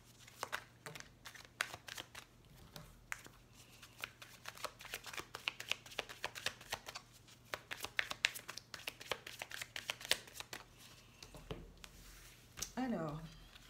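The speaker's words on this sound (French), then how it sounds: "on va faire un tirage en 6 cartes sur chaque mois" Oracle cards are shuffled by hand for a reading, producing soft, rapid papery flicks and riffles in a steady run, close and quiet, with a voice talking now and then.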